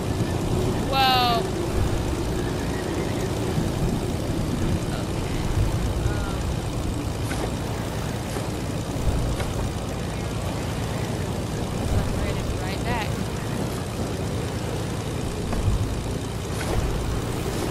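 Propeller airplane engine in a video game, a steady droning hum running loud and continuous throughout, with a brief rising whine near the start and people talking over it.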